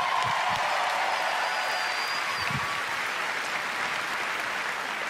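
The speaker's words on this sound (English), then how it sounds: "Another round of applause" An audience at the Bethesda E3 2019 press conference applauds in a steady, dense wash of clapping and crowd noise that holds at even loudness for the whole stretch, with a faint tone gliding through near the start.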